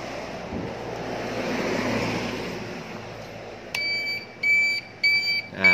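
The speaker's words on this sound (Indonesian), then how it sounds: "seinnya juga masih bunyi" Turn signal on a Yamaha F1Z motorcycle beeping: after a stretch of low rumbling background, a series of bright electronic beeps arrives in short repeated bursts, close and clear.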